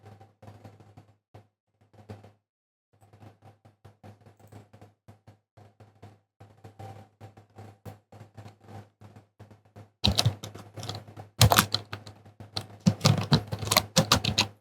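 Typing on a computer keyboard while setting up a WordPress install on Linux: irregular close key taps in short bursts with brief pauses, then louder, denser clattering toward the end.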